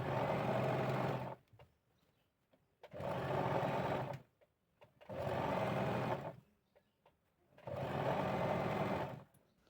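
Sewing machine stitching a palazzo pant seam, running in four steady bursts of about one and a half seconds with short quiet pauses between, close and even.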